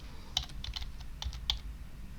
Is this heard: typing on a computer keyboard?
yes